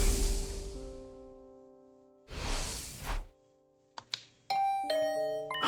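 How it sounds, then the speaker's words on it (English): A doorbell chimes with ringing electronic tones in Hundred Line Last Defense Academy, mixed with whooshing game effects and short bursts of synthetic noise. "Was that my doorbell?"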